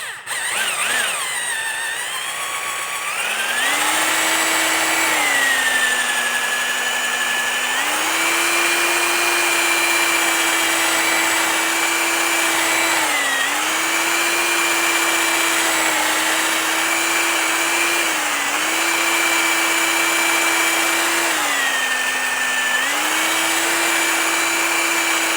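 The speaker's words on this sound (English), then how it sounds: "you have to be careful with the drill because you don't want it to kick around on you" A power drill spins a hand hone inside a Yamaha 250 cylinder, giving a loud, continuous motor whine that dips and climbs in pitch as the load shifts, with no talking.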